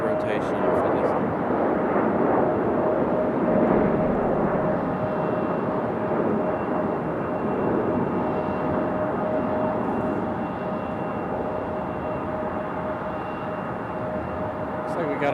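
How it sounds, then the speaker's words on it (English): An Embraer E-175 jet taxis at Raleigh-Durham International Airport, its engines producing a broad, steady roar with a thin whining tone running through it, loud and fairly close, holding level for the whole stretch before easing slightly toward the end. "This E-175 still hasn't made it into the gate, as I'm sure you guys can hear."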